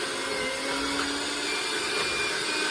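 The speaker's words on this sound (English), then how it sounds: "get your mixer in there. Turn it on." An electric hand mixer whirs steadily while beating butter and filling for sweet potato empanadas, a continuous close motor drone with no pauses.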